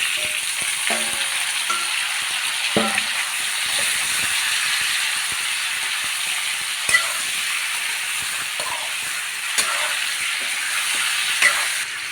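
Beef tail pieces dropped into sautéing garlic, onion and ginger for Filipino balbacua sizzle steadily with a bright frying hiss, a few utensil clicks and scrapes early on, close and without talk.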